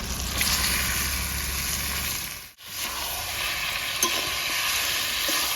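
Chicken pieces being sautéed in a tomato gravy, a steady close sizzle and hiss with faint stirring, a brief dip in the middle, then continuing.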